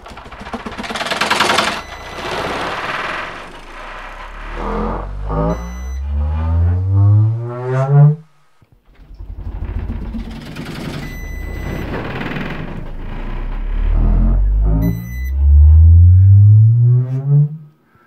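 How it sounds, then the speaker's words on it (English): A subwoofer plays loud bass sine sweeps rising to 80 Hz during tuning, pushed toward 115 dB. Two long upward sweeps, each with a buzzing, rattling edge, are split by a brief silence; the second builds to a heavy, booming low end. "let me just do a sweep up to, we'll say 80 hertz"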